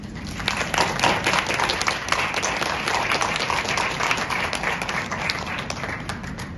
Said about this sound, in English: I invite you all to join me in thanking our professors with a round of applause.